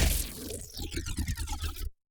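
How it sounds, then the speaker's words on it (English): An electrical whoosh synth patch designed in Radium, with a filter sweeping wide open: a bright hissing rush that settles into a rhythmic, fluttering pulse before cutting off abruptly. "we're just slamming open that filter and adding, again, all that movement to that kind of electrical whoosh"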